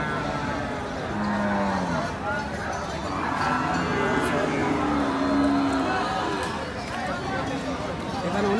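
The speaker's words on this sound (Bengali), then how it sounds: "আজকের হাতে বিভিন্ন জাতীয় গরুগুলো দেখানোর চেষ্টা করলাম" Cattle lowing at a busy Bangladeshi cattle market where small and medium bulls are sold, several drawn-out moos rising over a constant crowd murmur with people talking nearby.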